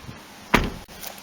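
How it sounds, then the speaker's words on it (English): Car door on a Toyota Carina E barn find, closed in a workshop: one sharp, close thump with no speech. "and then we'll close the door up"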